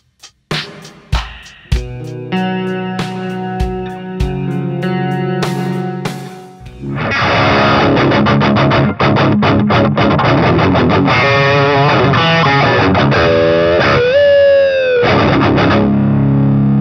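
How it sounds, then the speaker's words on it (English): Electric guitar played through a Digitech Hardwire SC-2 valve distortion pedal: a few clean plucked notes and chords first, then loud, thick distorted strumming and riffs with a bend near the end, played alone. "I'd like to talk about the Hardwire SC-2 valve distortion pedal."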